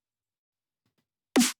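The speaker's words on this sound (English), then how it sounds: "Also on the snare, which sounds like this" A single snare drum hit processed with a JST Clip clipper plugin, one short punchy crack with a bright, slightly gritty top end, sounding alone after silence.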